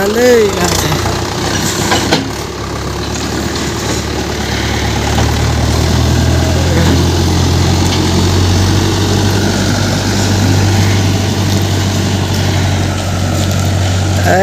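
Tractor engine running steadily, a loud low-pitched drone that holds throughout, with a person talking over it.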